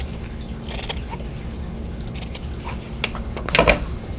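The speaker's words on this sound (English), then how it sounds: "what I'm going to do is just trim it down to 1/4 of an inch" Scissors snip through quilt binding in a few quick, faint cuts, close up over a steady low hum, with a slightly louder snip near the end and no talking.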